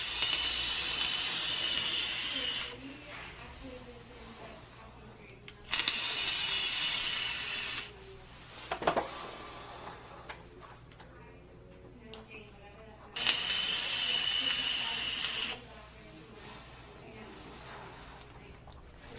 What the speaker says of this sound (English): let's have a vape here at 70 watts,